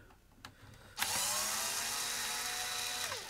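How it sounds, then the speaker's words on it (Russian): After two quick clicks, a power screwdriver whirs steadily for about two seconds, close and loud, while fasteners are removed from a Clatronic DB3329 iron being repaired. "Откручиваем крепежи. Сейчас нужен инструмент"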